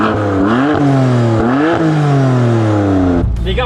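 A tuned BMW M4 with catalysts fitted revs hard in neutral, its engine note climbing and falling through several loud, close blips, with a burst of noise at the end.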